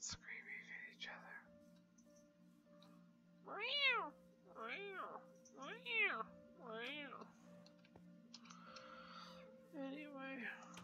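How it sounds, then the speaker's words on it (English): Domestic cats trade a string of loud, rising-and-falling yowls, roughly four strong cries in a row followed by weaker ones, while a person speaks softly nearby and a steady low hum runs underneath. "You hear my cats screaming at each other."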